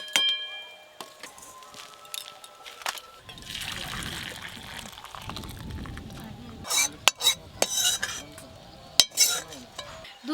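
Milk cooked down to a thick, kheer-like consistency is poured from a cooking pot for pitha, giving a soft, close trickle and slurp broken by scrapes and sharp clinks of metal utensils against the pot.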